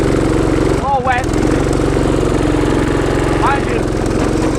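A go-kart engine idles and drones loudly and steadily close by, a buzzy mid-pitched motor with brief voices breaking in over it.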